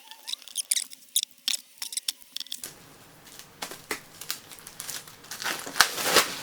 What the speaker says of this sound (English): Let me first pop off the plastic here.